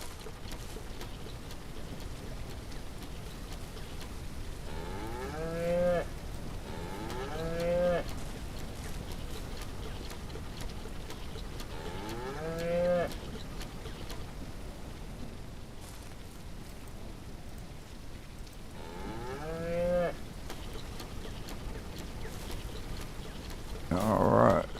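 Cattle in the Ranch Sim video game let out several long, drawn-out moos at spaced intervals over a steady rain-like background hiss.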